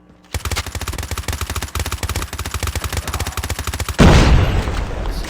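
AK rifle fire in Call of Duty Mobile: a long, rapid run of loud, closely spaced full-auto shots, followed by a sharp blast and a noisy burst that fades out.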